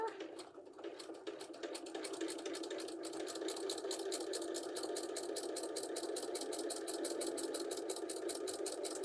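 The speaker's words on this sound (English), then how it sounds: "And we're sewing down 1/4 inch on one side." A sewing machine stitches a quarter-inch seam on quilt fabric for a fish quilt block, its needle hammering in a fast, steady rhythm that runs continuously and close by.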